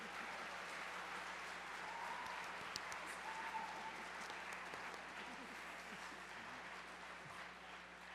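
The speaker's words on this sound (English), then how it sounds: "what I would like to do is have you all give all of our panelists a round of applause" Audience at an engineering event applauds a panel: steady, dense clapping from a crowd in a hall, moderately distant and fairly even throughout, with a low hum underneath.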